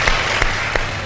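A studio audience at a Ramadan iftar television show claps in a brief, steady burst of dense applause, with a few sharper claps standing out.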